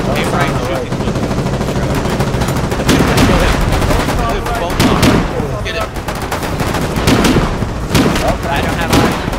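Rapid, loud gunfire and booms from the Foxhole war game fill the whole stretch, overlapping bursts of shots with voices talking over them.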